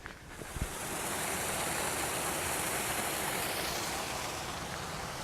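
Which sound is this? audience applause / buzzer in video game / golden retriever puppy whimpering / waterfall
waterfall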